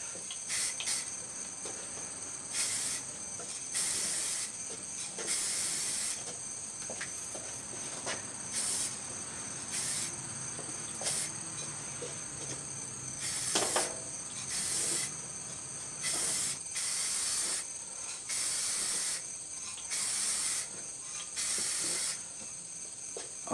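Clear coat is sprayed onto a 2010 Kia Soul fender in repeated short bursts of hissing spray, roughly a dozen passes of a second or two each, close and fairly loud, separated by quiet gaps.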